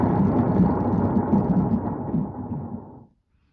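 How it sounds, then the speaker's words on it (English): A thunderclap from a thunder and lightning sound effect unit rumbles loud and close for about three seconds before cutting off abruptly into silence. "if I press the button you get a thunderclap"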